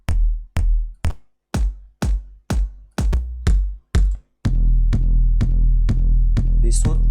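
Raw synthesizer tone with no plugins: a series of punchy bass-heavy hits with decaying tails, roughly two per second, then a sustained droning pulse with rhythmic accents, loud and alone.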